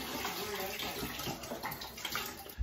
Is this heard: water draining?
yes